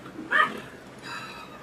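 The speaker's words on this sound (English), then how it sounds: "What dog is that?" A dog barks once, briefly and moderately close, during a live watch-along of an Ivory Coast versus Ecuador World Cup match, followed by faint background noise.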